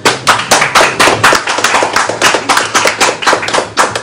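Steady applause from a crowd, dense overlapping claps with rhythmic swells, fairly loud and close, no voices standing out.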